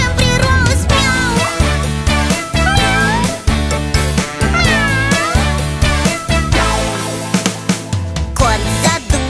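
A voice imitates a cat, singing drawn-out meows with sliding pitch in a children's song about a cat and its tail, heard several times over loud, steady musical accompaniment.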